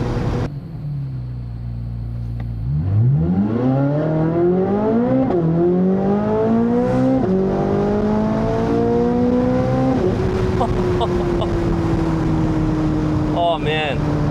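A Chevrolet C8 Corvette Z06 engine revs hard from inside the cabin, pitch climbing steeply through several upshifts with brief dips at each shift, then settling into a loud steady drone.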